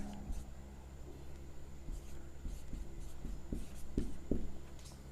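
Chalk or pen writing on a board during a Class 10 maths lesson, heard as short, faint, irregular scratching strokes over steady low background hum.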